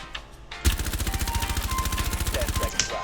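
Rapid automatic gunfire from a low-recoil gun in Rainbow Six Siege, a steady string of loud, evenly spaced shots lasting over two seconds after a brief quiet start.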